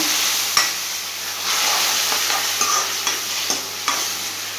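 Coriander masala with curry leaves and green chillies is stirred in a hot pan, a strong sizzle broken by repeated scraping strokes of the spoon at a steady pace.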